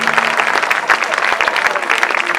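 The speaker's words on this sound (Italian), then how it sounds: "Un applauso alla signora Giuseppina." A town square crowd at an Olympic champion's celebration breaks into loud, sustained applause for an elderly woman, dense clapping filling the whole stretch.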